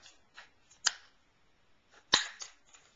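Two sharp snipping cuts into a plastic aerosol can cap, the second louder, with lighter rustling and crackling of the plastic between them, close and without talk.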